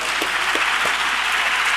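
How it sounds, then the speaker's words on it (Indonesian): Applause for the hosts during a Catholic Eucharist celebration in Manado, a loud, dense, steady patter of many hands clapping with no voices. "Tepuk tangan dulu untuk tuan rumah."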